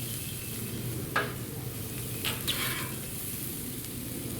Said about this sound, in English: our vegetables are almost done, so we're going to slide them over here